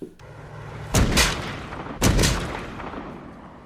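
Two loud gunshots from a Friday the 13th movie, set in New York City, crack about a second apart, each leaving a booming tail over a low room hum.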